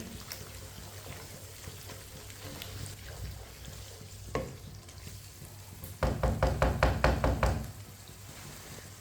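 Aloo methi, potatoes with fenugreek leaves, cooks in a pan as a spoon stirs it, soft scraping and faint sizzle giving way to a quick run of about eight loud, rhythmic spoon knocks against the pan.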